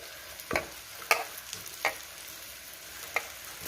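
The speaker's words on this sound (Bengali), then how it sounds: "তারপর ভালো করে মাখতে হবে যাতে সমস্ত রাখা সবজিগুলো ভালো করে মিক্স হয়ে যায়" Ash gourd and mixed vegetables stirred in a pan, a few separate scraping clinks with a soft sizzle underneath, spaced irregularly and fairly quiet.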